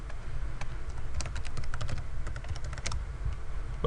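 Fast typing of login details on a computer keyboard, a rapid stream of close, light key clicks with uneven rhythm over a faint room hum.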